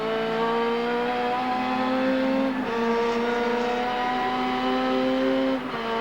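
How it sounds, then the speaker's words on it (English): Touring car engines at the 1990 ATCC round at Symmons Plains drone and rise in pitch as they accelerate out of a hairpin, steady and loud, with a brief gear change midway and another near the end. "John scoots away again as they put power down on the other side"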